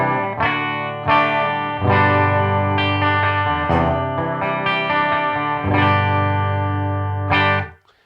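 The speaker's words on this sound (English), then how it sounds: "the third voicing is a hot wound PAF sound" Electric guitar through a hot wound PAF pickup voicing with a slightly driven, effected tone, strummed chords ringing out in several sustained hits before stopping, with no talking.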